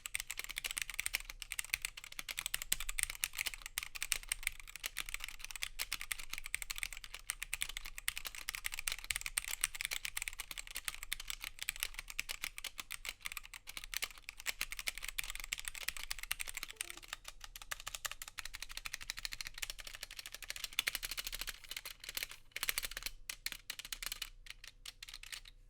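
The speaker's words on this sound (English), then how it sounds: "let's just hear how this board sounds stock with Gateron red switches." Stock Gateron red switches on a mechanical keyboard clatter in fast, continuous typing with a rattly edge, close and fairly quiet, without voices.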